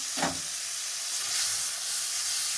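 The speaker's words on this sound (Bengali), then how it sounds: "তেলের উপরে টমেটোটা দিয়ে দিলাম" Tomato dropped into hot oil in a pan, giving a steady close hiss and sizzle after a brief splash at the start, with no talking.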